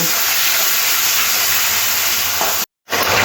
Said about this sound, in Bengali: খুব ভালো করে মেশানো হয়ে গেলে অল্প একটু জল দেব